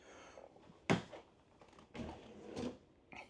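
A pull-out drawer in the kitchen of a 2024 Brinkley Model G 3250 rear-patio RV slides and bumps shut, with a sharp knock near the start and softer sliding thuds after, close up and with no voices.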